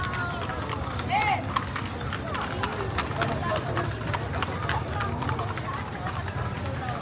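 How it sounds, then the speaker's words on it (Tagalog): Horses clip-clop along a street in Vigan, the hoofbeats sharp and rhythmic over a busy background, with people talking throughout. "Mga kabayo."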